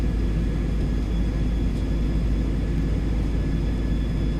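CFM-56 jet engines on an Airbus A321 in a flight simulator game give a steady, even roar with a faint high whine on top, unbroken throughout, with no talk.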